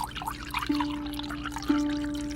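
Water poured into a drinking glass in a Hindi horror audio drama, heard as a soft close trickle with two brief ringing clinks as the stream settles, no voices over it.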